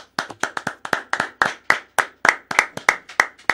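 Sparse clapping from a small audience welcoming a guest onto a Dominican radio show, about fifteen distinct sharp claps in an irregular rhythm, close and alone with no voices.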